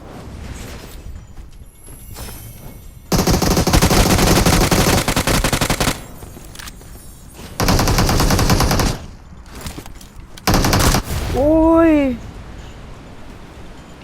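Machine gun fire in the shooter game PUBG Mobile, heard in several loud sustained bursts of rapid automatic shots, with quieter stretches between them and a rising electronic tone near the end.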